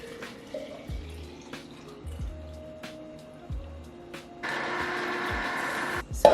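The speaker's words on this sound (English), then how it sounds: "I'm just gonna fill up the whole jar." Green juice for clear skin is poured into a jar, first as faint trickles and drips, then as a louder steady pour in the final seconds, close by with no talking.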